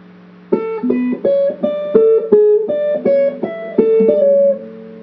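A clean guitar plays a short melody of about a dozen plucked notes at a steady, moderate pace, each ringing briefly, with no voices.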